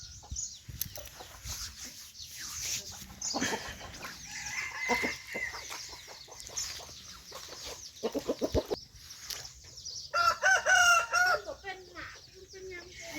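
Chickens cluck and a rooster crows at close range on a farm, with bursts of calls across the clip and a loud crow near the end, while people talk intermittently in the background.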